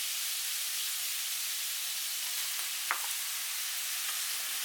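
Shrimp and mussels stir-fry in a hot pan for seafood rice noodles with a steady, dense hiss of frying. A single soft utensil knock sounds partway through, and nobody talks.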